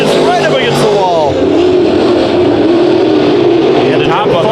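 Race cars roar around the Bakersfield Speedway oval during a heat race, engines loud and close with pitch sweeps from passing cars, continuous throughout while a commentator talks over them.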